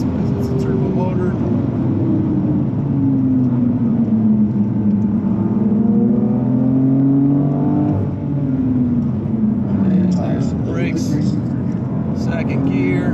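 A 2019 BMW M2 with a turbocharged engine driven hard around a track, its engine droning steadily and rising and falling in pitch through the gears, loud and continuous with someone talking over it throughout.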